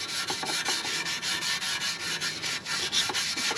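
Scotch-Brite pad scrubbing rusty motorcycle exhaust headers, a steady rhythmic abrasive rubbing with short back-and-forth strokes, close and even, with no talk.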